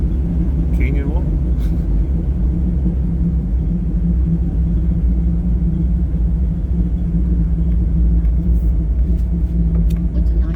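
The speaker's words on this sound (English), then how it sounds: "We're driving down the side of a canyon wall." Off-road vehicle creeping down the side of a canyon wall on a trail, its engine a steady, close low rumble with continuous road noise and no clear revving.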